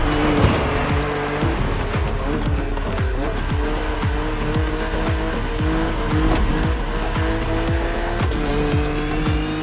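A BMW Z4 E89 coupe cabriolet races in The Crew Motorfest, its engine revving hard through repeated rapid gear shifts while tires squeal continuously, loud and close throughout.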